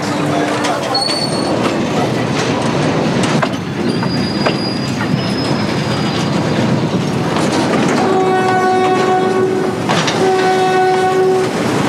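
A Benguela railway train pulls into Kubal station in Angola, with steady rumbling wheels and carriage noise throughout and long horn blasts sounding near the end.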